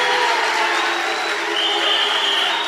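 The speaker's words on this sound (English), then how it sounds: "Round of applause" An audience applauds after a political speech at a 2024 national election debate: steady, dense clapping held at an even level throughout, with a faint thin whistle rising above it partway through and no one talking.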